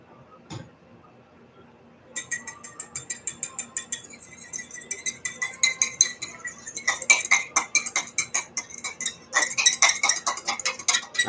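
A whisk or fork beats a mixture in a bowl, a fast run of sharp metallic clinks against the bowl that speeds up and grows louder, close and alone.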